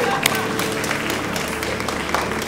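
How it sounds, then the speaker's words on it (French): A youth event audience gives a short burst of dense, steady applause, with some voices beneath it. "Applaudissez-le, les amis."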